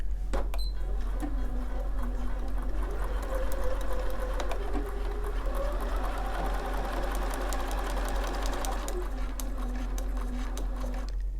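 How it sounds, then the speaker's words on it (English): A sewing machine fitted with a Spanish hemstitch attachment runs steadily while stitching foundation paper-pieced fabric from the edge down, with a continuous mechanical whir and rapid needle clatter, close and loud, and a few clicks near the start. "again I'm going to sew from the edge right the way down"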